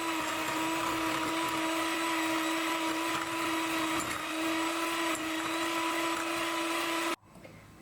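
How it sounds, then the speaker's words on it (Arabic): An electric mixer whirs steadily at high speed, beating eggs and sugar into cake batter for several seconds, a constant loud whine that cuts off abruptly near the end. "غنضرب هاد المكونات كامله مع بعضياتها لمده ديال 5 ديال الدقائق"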